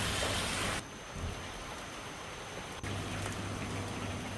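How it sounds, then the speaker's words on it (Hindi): Steady rain falls in Uttarakhand as a continuous broadband hiss with no voices, broken by abrupt shifts in level near the start and midway. "तो बारिश का सिलसिला लगातार जारी है।"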